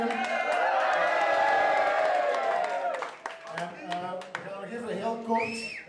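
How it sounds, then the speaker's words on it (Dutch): An audience at a live show in Kuurne erupts in loud cheering and whooping, then it thins into scattered claps, shouts and a whistle as the noise fades. "En nou een luid applaus"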